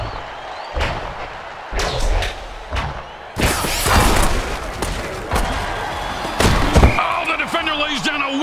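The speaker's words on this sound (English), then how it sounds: "Wicked hit and knocks the ball loose" Hard tackle hits in a mutant football video game, several sharp loud thuds and slams scattered across the stretch amid crowd noise and a voice talking.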